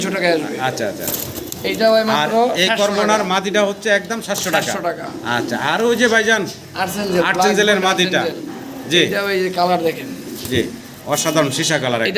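Pigeons coo amid the crowd at a pigeon market, their soft calls running beneath near-constant loud talk from people nearby.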